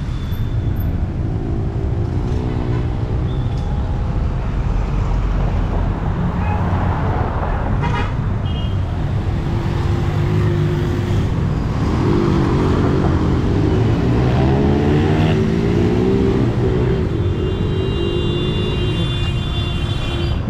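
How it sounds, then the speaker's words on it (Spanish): Dense city street traffic in Guatemala City, with many motorcycles among cars, steady engine rumble and occasional horn toots, continuous and fairly loud throughout. "Miren tanta moto, es una cantidad de motos."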